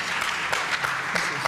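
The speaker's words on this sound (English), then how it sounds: "Let's give Penny another round of applause." Steady crowd applause at a community meeting, a dense wash of clapping with a few sharper claps standing out, continuing throughout.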